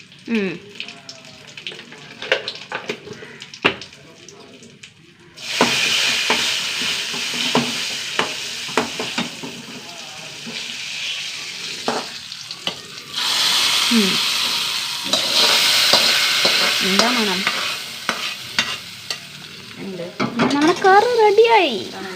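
Curry leaves and chili powder hit hot oil in a pan, and a loud, steady sizzle bursts out partway through and continues with stirring and clinks of cookware, while someone talks over the frying.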